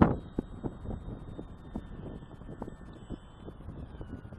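High wind buffeting a microphone over a bumpy field during an RC plane flight, heard as uneven low rumbling gusts under a thin, steady electric motor whine.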